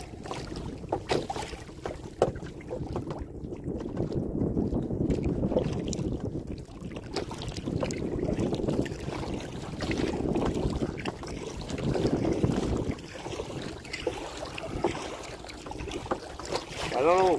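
Wind buffets the microphone on a kayak outing on open water, a continuous rough rumble that surges and fades in gusts, with faint paddle and water sounds beneath and no clear talk.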